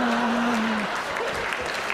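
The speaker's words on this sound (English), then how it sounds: "Thank God you clapped that there" Steady applause from a comedy show audience, a continuous dense clapping wash with a brief voice over the start.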